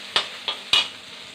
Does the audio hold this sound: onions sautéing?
yes